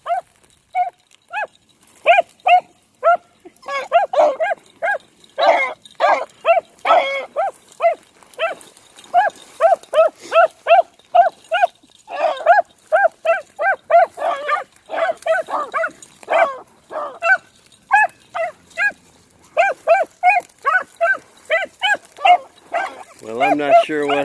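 Two hunting dogs, a young pup and an older dog, just out of a starting pen, bark and yip in quick, rhythmic bursts for the whole stretch, close and loud with hardly a pause.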